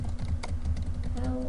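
Computer keyboard typing, a quick run of light key clicks close to the microphone over a low steady hum.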